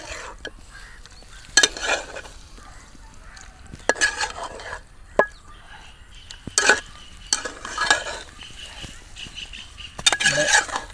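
Pepper chicken gets stirred in a pan with intermittent scraping and clattering bursts over a low, steady sizzle, close and moderately loud, with pauses between strokes.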